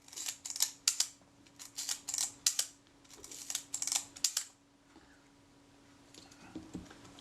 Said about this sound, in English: It means I can cock the shutter.